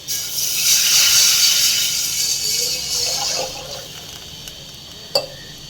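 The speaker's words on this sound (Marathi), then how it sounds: "गॅस बारीक करून त्यामध्ये 1 तांब्या पाणी ओतू" A pot of water poured into a pan of thecha fried in oil with turmeric, a loud rushing splash for about three seconds that trails off into quieter bubbling, with a small clink near the end.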